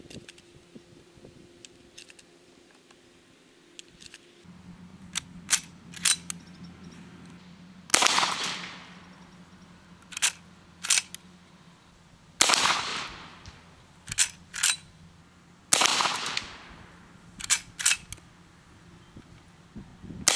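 A Winchester 1873 lever-action rifle fires HSM ammunition at an outdoor range, with about four or five sharp reports spaced several seconds apart, each followed by the clack of the lever action working between shots.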